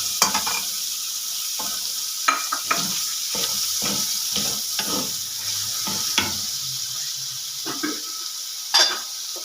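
Onions sizzling and frying with chicken in a pan, with steady hiss and repeated stirring scrapes and clinks close by, no talking.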